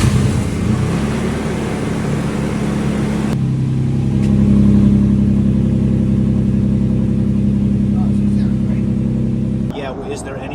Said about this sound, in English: First thing you're going to hear is the new exhaust.